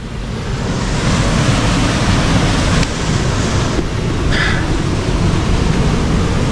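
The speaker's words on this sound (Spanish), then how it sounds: "Acá escucho caer una cascada con bastante fuerza." A waterfall falling forcefully beside a hiking trail in Murcia, Spain, a loud, constant rushing roar of water that stays steady and close, with no voices.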